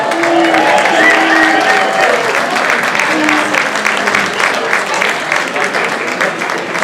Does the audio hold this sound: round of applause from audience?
yes